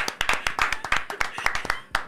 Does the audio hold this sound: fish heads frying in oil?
no